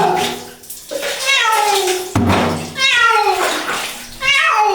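A cat meows loudly and repeatedly in drawn-out protesting cries while water is poured over it during a bath. The cries are close and insistent, with splashing beneath them.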